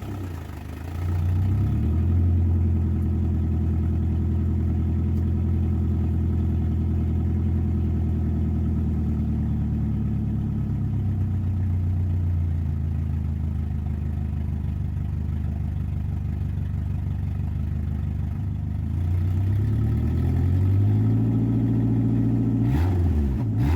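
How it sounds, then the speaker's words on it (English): A car with a turbocharged KA24ET engine and a custom catback exhaust, recorded with the catalytic converter removed, starts up and runs at a deep steady idle, rising briefly in a rev near the end, close and loud. "fire up the car, and we'll see if it sounds different, if at all, to having the quote-unquote restrictive OEM"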